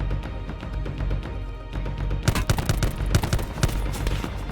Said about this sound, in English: I can only hear one set of gunshots though.